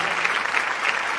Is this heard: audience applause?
yes